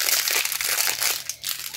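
Paper crinkles loudly and continuously while being opened at a crafting table, close crackling rustles with a brief dip near the end.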